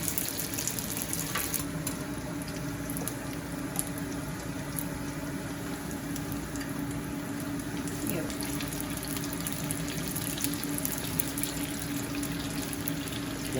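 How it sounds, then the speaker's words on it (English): Korean mandu dumplings sizzle in oil in a pan, a steady soft crackle and hiss under kitchen noise with occasional clinks. "I'm starting to turn over the ones that are frying in the pan"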